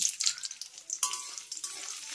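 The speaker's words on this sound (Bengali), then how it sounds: "এবার রসুনটাকে কিন্তু আমি খুব ভালো করে একটু ভেজে নেব।" Chopped garlic fries in a hot pan for a lentil dish, a steady close crackle and hiss with brief stirring scrapes, heard alone without talk.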